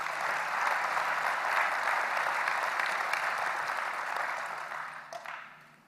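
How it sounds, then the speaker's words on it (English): Sustained round of audience applause at a formal announcement event for a fighter jet plant, steady dense clapping for about five seconds before tapering off. "Let's give another round of applause."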